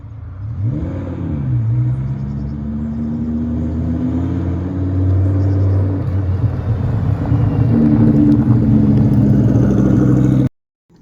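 A 7X Design Rayo hypercar, built on a Lamborghini Huracan, runs its engine on race fuel. It gives a loud, steady close-up drone with revs rising and falling before it cuts off sharply at the end.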